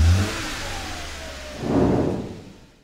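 A car engine revs up from idle, rising in pitch and swelling briefly louder before easing back down, close by with no voices.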